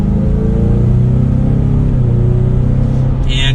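A 2022 Ford Mustang EcoBoost in S mode accelerates gently, its engine a steady, loud low rumble heard from inside the cabin with slowly rising tone, and a brief high chime near the end.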